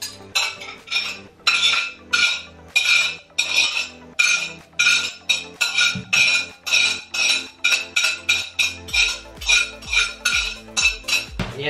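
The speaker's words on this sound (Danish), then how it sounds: "Og noget mere ned i opvasken." Dishes, pots and cutlery clatter and clink repeatedly as they are set down in a kitchen dishwashing area, a close, steady run of sharp knocks and rattles with no talking.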